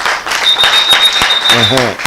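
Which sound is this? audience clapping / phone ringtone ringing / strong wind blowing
audience clapping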